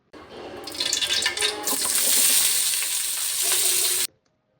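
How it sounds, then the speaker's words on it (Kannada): Chopped onions frying in about four spoons of oil in a pot on a gas stove make a loud, steady, close hiss that starts abruptly and stops sharply after about four seconds, with no talking. "ಈ ಥರ ಈರುಳ್ಳಿನ ಫ್ರೈ ಮಾಡ್ಕೋಬೇಕು ಎಣ್ಣೆಯಲ್ಲಿ"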